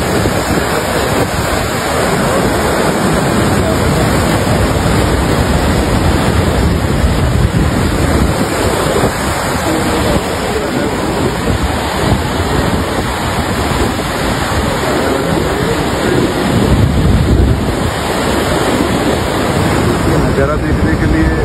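Water rushes through the gates of a dam, a loud, unbroken roar mixed with wind buffeting the microphone.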